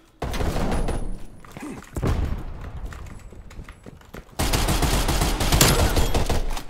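Magnum revolver gunfire in the Call of Duty Cold War Search and Destroy mode, heavy thumping shots and battle noise that keep going throughout and grow louder and denser in the final couple of seconds.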